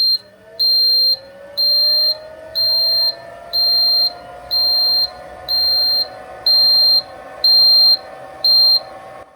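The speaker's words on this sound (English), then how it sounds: "You get a bunch of beeps to let you know the tape is at its end" A Sony SL-J7 Betamax deck sounds its tape-end alarm: ten evenly spaced high-pitched beeps in a steady rhythm, close and clear, over a faint rising whir of the machine rewinding.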